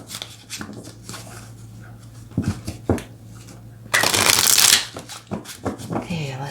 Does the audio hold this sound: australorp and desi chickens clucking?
no